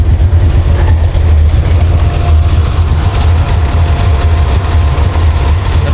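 A carbureted car engine idles at about 800 rpm after its ignition timing was advanced a few degrees, giving a steady, loud, low rumbling drone heard up close with no talk.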